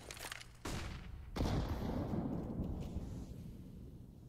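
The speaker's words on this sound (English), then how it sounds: "Did the vent just break with the nade?" A grenade bursts and breaks a vent in CS:GO on the Mirage map during a pro match, giving a sharp blast followed by a rumbling, debris-filled wash that slowly fades, with no talking.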